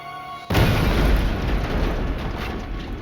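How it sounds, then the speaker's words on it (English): A documentary explosion effect for a mail bomb blast: a sudden loud boom bursts in after a short quiet moment and then holds as a heavy, sustained rumbling roar. "The explosion was the most gruesome yet."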